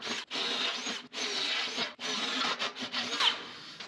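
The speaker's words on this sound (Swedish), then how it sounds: "Så, då borrar vi upp till 10 också då." A drill bores into wood in several bursts separated by short pauses, a close, grinding whir with no voices.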